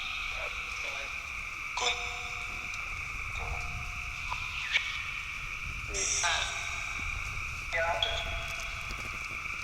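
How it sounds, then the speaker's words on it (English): Frogs croak outdoors at night in a dense, continuous chorus of high trilling calls that stays steady throughout, with occasional louder nearby croaks standing out above the constant background. "Yeah, those frogs make it hard."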